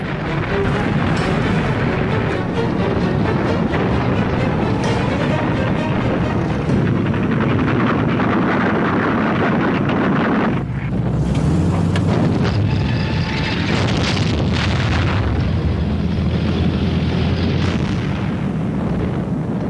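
Tank battle from July 1943 as 900 tanks charge, with a dense continuous roar of explosions and artillery fire, heavy booms layered over a constant rumble and no quiet moments.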